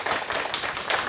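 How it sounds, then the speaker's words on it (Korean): Applause from a church congregation at a Sunday service, a short burst of scattered hand clapping filling the room at moderate level. "박수 한번 하실까요?"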